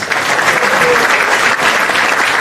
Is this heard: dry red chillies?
no